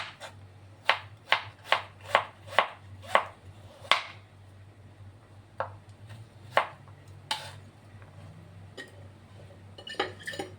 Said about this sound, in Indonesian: Di sini jahenya saya mau potong ini nipis-nipis aja.